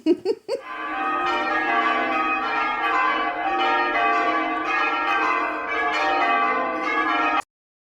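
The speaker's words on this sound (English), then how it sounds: "It was bell ringing practice." Church bells ring continuously during bell-ringing practice in Castleton, Derbyshire, a dense, overlapping peal that sustains for several seconds before cutting off abruptly.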